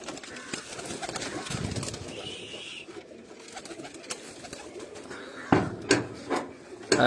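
Pigeons coo intermittently in a rooftop loft setting, soft and mid-distance over a busy background of rustling and ambient noise, with a few louder knocks and flutters near the end.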